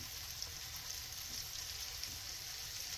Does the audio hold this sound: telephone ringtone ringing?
no